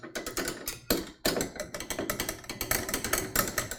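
A screwdriver tightens the two heatsink screws onto a support bracket inside a computer, giving a close series of rapid ratcheting clicks and scrapes with a brief pause partway through and no voices.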